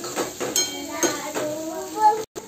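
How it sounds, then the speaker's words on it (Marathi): Mashed potato being mixed in a pan for a dosa filling, with repeated scraping and clinking of a spoon against the metal in an uneven rhythm, close and fairly loud. "आलू टाकल्यानंतर त्याला छान मिक्स करून घ्यायचं।"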